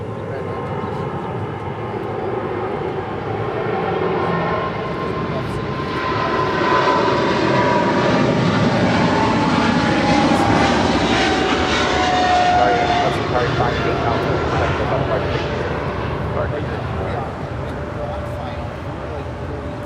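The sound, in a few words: Qatar Cargo Boeing 777 freighter departing LAX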